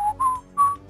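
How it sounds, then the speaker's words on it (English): Duke Nukem whistles in the video game Duke Nukem 2, two short clear whistled notes in quick succession, loud and close with a slight rising bend. "I love it because he whistles."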